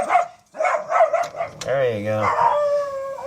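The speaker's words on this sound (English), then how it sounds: "Sorry, it's chasing off another dog." A pet dog chasing off another dog outdoors, howling and yelping in bursts, loud and close, mixed with a voice talking over it.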